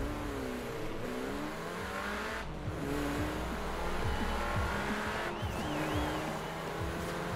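An Audi TT races in Forza Horizon 4, its engine droning and revving steadily with gear-change dips, rising pitch sweeps and tire noise, loud and continuous with no talk.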